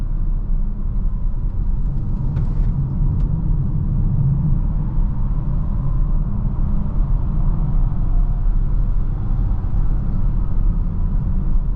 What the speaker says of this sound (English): A little bit more road noise when we're getting into the corners because we are on those snow tires.